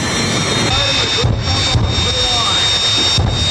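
A roaring racing jet car engine drones steadily with a high whine on top, loud and continuous, with brief dips in the rumble.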